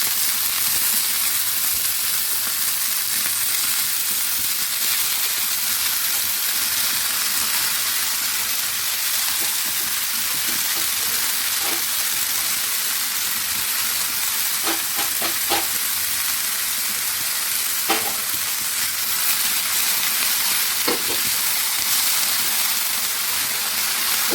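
Kurdu leafy greens fry with onion and chili in a pan, giving a loud, steady sizzling hiss that runs the whole time, with occasional light scrapes from stirring and no voices.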